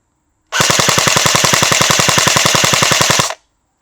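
An AK Bizon 2 PP19 airsoft gun fires one sustained full-auto burst of about three seconds from a 7.4 battery. The shots come as a rapid, evenly spaced mechanical rattle, loud and close, with silence before and after.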